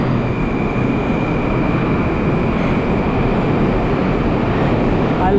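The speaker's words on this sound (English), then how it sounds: "I like looking at this train when they move." A Moscow Metro train moving through Komsomolskaya station, a loud steady rumbling roar of wheels and motors that stays constant throughout.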